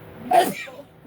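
A single sharp sneeze bursts out close by, loud and brief, followed by a quieter tail of voice-like sound.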